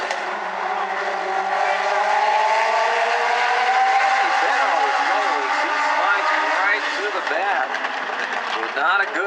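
Legends race cars roar off the start of a heat race at a South Sound oval, engines rising together in a loud sustained drone with pitch climbing as they accelerate and pass.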